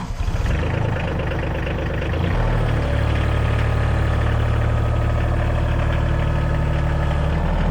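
A tractor engine idles steadily in cold winter weather, a loud, close, continuous low throb with a regular mechanical rhythm and no talking.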